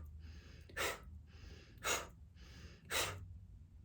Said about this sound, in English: So let's take 5 bellows breaths.